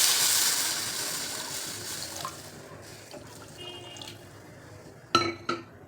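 Water pours into a pan of hot oil with red chili powder, a rushing hiss that fades to a gentle bubbling, followed by two sharp metallic clanks of a utensil on the pan.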